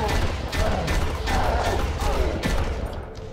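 Gunfire against enemies in the shooter game Far Cry, a dense run of sharp shots and mechanical clatter that holds loud and steady for about three seconds, with no speech.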